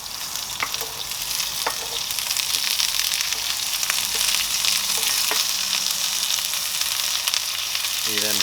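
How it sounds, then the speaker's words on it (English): Onions sizzle steadily in a pan on an outdoor barbecue, a continuous bright frying hiss with occasional small pops and stirring scrapes, close and alone without talk. "See them sizzling away."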